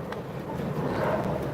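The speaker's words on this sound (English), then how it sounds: "Tour bus." A tour bus passes on the National Mall in Washington DC shortly after sunrise, a low broad rumble that swells gradually as it nears, with a rushing wind-like wash over it.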